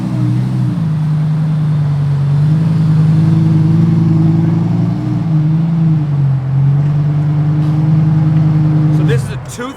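A 2004 Lamborghini Gallardo with an upgraded exhaust hums loudly and steadily at a low pitch for several seconds, rising slightly in the middle, then cuts off abruptly near the end.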